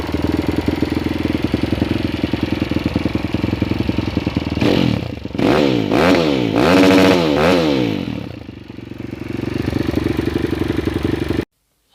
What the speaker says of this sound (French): on va faire tourner la moto pour la refaire chauffer